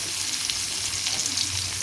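Pieces of bitter gourd frying in hot oil in a home kitchen, giving a steady close sizzle with fine crackling throughout and no talking.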